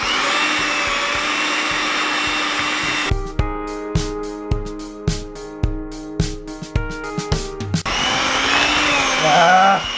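Electric mixer beating a gluten-free cake pop mixture in a home kitchen, a loud whirring motor that runs steadily, then breaks into a quick series of rhythmic pulsed bursts before running steadily again.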